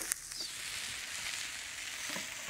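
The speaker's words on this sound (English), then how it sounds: "stir these ingredients together" Vegetable paella ingredients, onions and peppers, stirred together in a hot pan, giving a steady close sizzle with a few soft scraping touches and no talk.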